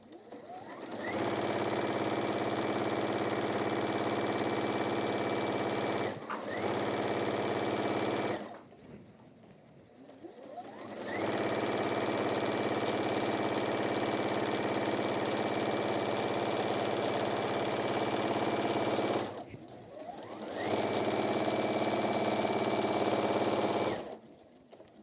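A sewing machine stitches along the bottom hem of a lined deluxe apron, running in long steady motorized bursts broken by short pauses, close and loud.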